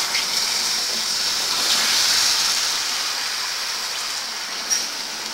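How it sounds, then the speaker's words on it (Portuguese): Half a cup of water poured into melted sugar while making caramel for bread pudding gives a steady, close hissing gush that runs evenly for several seconds, with no talking. "Bom, já derretiu todo o açúcar e agora vamos, vou colocar meio copo de água."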